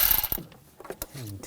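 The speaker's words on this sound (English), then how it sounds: "Use a 10mm socket, take the nut out." A 10mm socket and ratchet remove a nut from the ignition coil area on the engine of a 2000-2006 BMW X5 3.0L inline-six, giving a few short close clicks and metallic ticks in a quiet garage.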